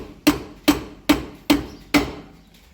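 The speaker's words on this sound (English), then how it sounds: "Or you can just tap it on with a hammer, but the socket" Hammer tapping a socket to seat the rear wheel hub on a 2001-2010 Chrysler PT Cruiser: five sharp metallic strikes at an even, unhurried rhythm, close up and clear, each ringing briefly.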